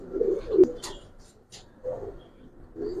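Pigeons in a loft, including Giribaz and colour breeds, give low, soft cooing phrases that come in several separate bursts close by, with a sharp click partway through.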